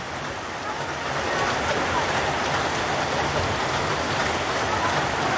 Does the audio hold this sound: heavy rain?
yes